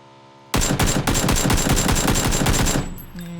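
Automatic gunfire in PLAYERUNKNOWN'S BATTLEGROUNDS, a loud, close, sustained burst of rapid shots lasting over two seconds before it stops abruptly, with faint game tones around it.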